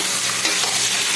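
Fresh chicken breast is stirred in a pan for Filipino chicken tinola, a brief close burst of sizzling with soft scraping.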